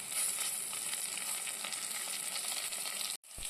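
Sliced onion, crushed ginger, garlic and curry leaves fry for chicken curry in a continuous close sizzle with faint stirring, cutting out abruptly for a split second near the end before the sizzle resumes.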